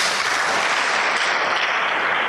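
A crowd at a leadership summit in Koforidua, Ghana applauds steadily, dense clapping filling the whole moment without pause or voices.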